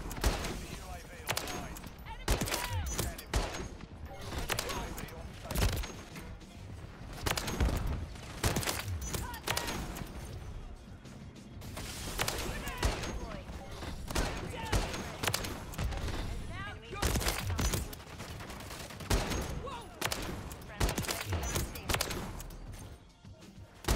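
Heavy gunfire from a .50 cal Barrett rifle and other weapons in a shooter video game, with dense, loud bursts of shots and rapid volleys across the whole stretch, under a player talking now and then.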